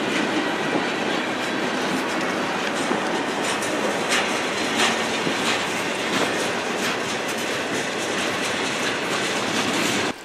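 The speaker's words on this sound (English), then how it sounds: "On this train was 5 former BHP Billiton iron ore locomotives which used to work in Australia." A long freight train hauled by five former BHP Billiton iron ore diesel locomotives rumbles steadily past nearby, wheels clattering over rail joints with occasional squeals, continuous and loud throughout.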